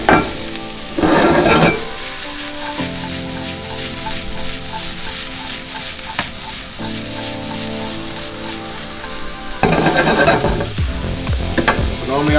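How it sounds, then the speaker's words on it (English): Mushrooms sizzle loudly in a frying pan for a tofu scramble while a utensil stirs them around, steady frying hiss with bursts of scraping and stirring near the start and end. "so here you want to stir everything around,"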